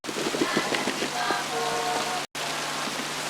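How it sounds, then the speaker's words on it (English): Heavy tropical downpour with huge raindrops, a dense steady roar of rain hammering surfaces, loud and continuous with a brief dropout near the end. "As soon as they arrive, the skies open up in a torrent."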